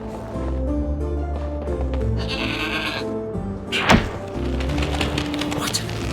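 A goat in the video game Trine 4 lets out a loud, close bleat over game music, with a dull thunk partway through.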